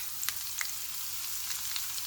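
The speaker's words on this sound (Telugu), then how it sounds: "జీలకర్ర పోపు దినుసులు వేసుకోవాలి. క్రష్ చేసుకున్న ఎల్లిగడ్డ వేసుకోవాలి." Crushed garlic and cumin seeds sizzle in hot oil as a tempering for a bitter gourd chutney, giving a soft continuous frying hiss broken by a few sharp pops and crackles, with no talking.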